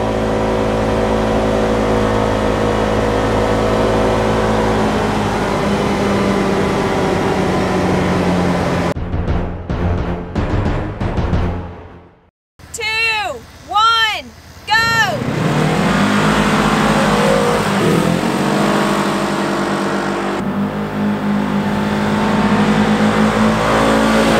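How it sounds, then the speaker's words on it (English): A car's engine revs and pulls hard in repeated accelerations, loud and close, then cuts out briefly before rising again with sweeping pitch changes. "Still has all the low end torque. Really, it pulls you through up to the top speed quickly."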